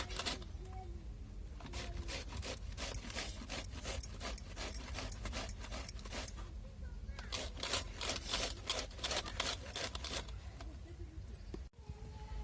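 Pumpkin being grated by hand on a metal grater, a steady run of rapid rasping strokes close up, pausing briefly partway through, then resuming until a short knock at the end.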